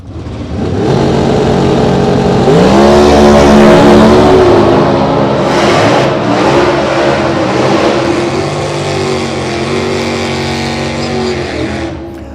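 Race car engines revving and accelerating loud and close at a drag strip in Las Vegas, a 1990 Ford Probe Super B modified hot rod and a factory Super Stock Camaro, with rising engine pitch sweeps over continuous roar.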